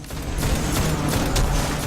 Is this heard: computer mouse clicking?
no